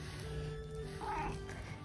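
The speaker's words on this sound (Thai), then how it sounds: "แมวขี้บ่น" A quiet, short cat meow with a grumbling, complaining tone over faint background noise.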